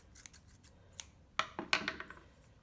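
Scissors snip through pom-pom trim while making brooch pins: a few faint light cuts, then several sharp, close snips in quick succession.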